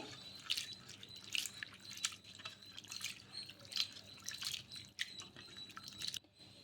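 Water sloshes and drips in irregular bursts as flattened rice is rinsed by hand in a bowl, close and fairly quiet, with no talking.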